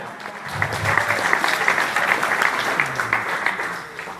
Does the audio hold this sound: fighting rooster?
no